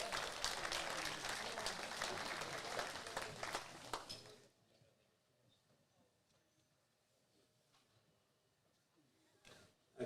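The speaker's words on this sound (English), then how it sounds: "big round of applause for her" Audience applause for a woman powerlifter at a powerlifting nationals meet, a loud sustained round of clapping from the crowd that cuts off abruptly about halfway, leaving quiet room tone with a brief faint noise near the end.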